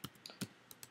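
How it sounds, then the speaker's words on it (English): Quick keystrokes on a computer keyboard tap out a short chat message, six or seven crisp, close clicks at an uneven pace, quiet and with no voices. "We click that and we can start typing"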